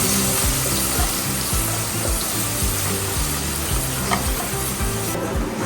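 Chopped onion fries in hot oil with mustard seeds and cumin, giving a loud continuous sizzle broken by regular scraping strokes of a spoon stirring the pan, with no talking.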